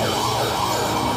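A loud wailing siren sound effect in a song, rising and falling over a dense musical backdrop, close and continuous for a brief moment.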